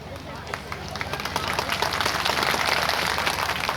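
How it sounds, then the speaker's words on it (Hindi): Crowd applause at a cabinet minister's speech during a festival, a dense wash of clapping that swells and stays loud and continuous over a few seconds. "ताली चालू हो गई है।"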